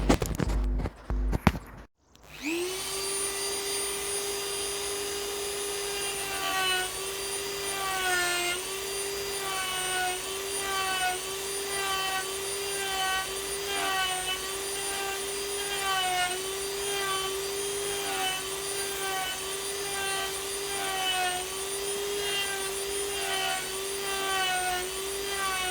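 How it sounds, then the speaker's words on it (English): Dremel rotary tool carving a field maple broom-style piece of wood: a sharp high-pitched whine starts after a brief clatter, then runs steadily with repeated small dips and rises in pitch as the bit bites into the wood, close and loud. "So now I'm going to come in with the Dremel tool."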